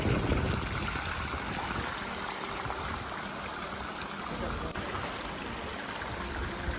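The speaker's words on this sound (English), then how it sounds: "It almost looks like it's raining on me, but it's actually a waterfall" A thin, nearly dried-up waterfall trickling in a Blue Mountains ravine in Australia, giving a steady close wash of falling water like rain, continuous and even throughout.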